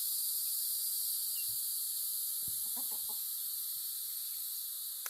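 Young Vorwerk chickens being introduced to a flock cluck and chirp softly in a few short bursts, faint against a steady background hiss.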